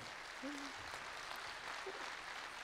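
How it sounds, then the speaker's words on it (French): An audience at a French political rally in Paris breaks into steady applause, a dense hiss of many hands clapping that continues evenly throughout. "On peut l'applaudir également."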